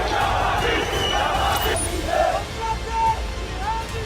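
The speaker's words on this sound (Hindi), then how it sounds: "वेस्ट बैंक में ही सुबह होने से पहले लोगों ने सड़कों पर निकलकर इजरायल के खिलाफ जमकर नारेबाजी की" A street crowd in the West Bank chants slogans against Israel before dawn, a loud, dense roar of many voices with rising shouts and individual cries standing out.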